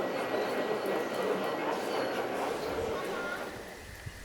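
A steam train in Steinbach rumbles past with a steady, dense roar that slowly fades toward the end.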